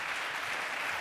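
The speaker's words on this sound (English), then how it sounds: "let's give him a round of applause." Steady applause from an audience after a lecture, a dense wash of clapping hands throughout, moderately distant and even.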